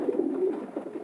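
A racing pigeon bred for 1000 km marathon flights coos softly close by, a few low throaty rolling notes in quick succession with no other sound.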